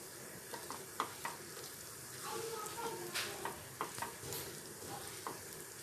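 Okra is stirred into a sizzling tomato masala in a pan. A steady, soft frying hiss runs throughout, with repeated scraping and clacking of the spoon on the pan.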